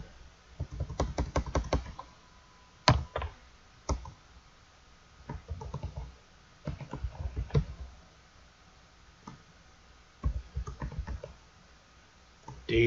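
Code typed on a computer keyboard in close, quick bursts of key clicks separated by short pauses, with no voices.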